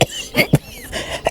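A man in an audio drama coughs several times in short, uneven bursts, close and fairly loud.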